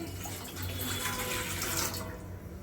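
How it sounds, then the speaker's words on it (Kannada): Water poured from a glass into a pan for making Hassan-style akki rotti, a steady splashing pour lasting a couple of seconds and tapering off near the end, close and fairly quiet with no talk. "ಇವಾಗ ಇದಕ್ಕೂ 1 ಗ್ಲಾಸಷ್ಟು ನೀರು ಹಾಕೊತೀನಿ"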